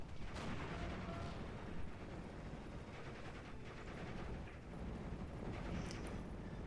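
Gunfire in the WWII strategy game Steel Division: Normandy 44 as a Panzer II and a Cromwell tank fire on an HMG jeep in a village: a steady, faint, muffled rumble of distant shots and blasts with no voices.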